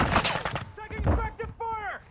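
Gunfire and explosive booms in Call of Duty Modern Warfare, a couple of loud sharp bursts at the start, then a game voice calling out over fainter background fire.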